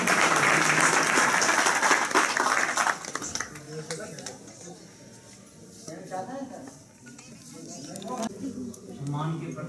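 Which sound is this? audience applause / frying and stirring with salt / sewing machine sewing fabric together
audience applause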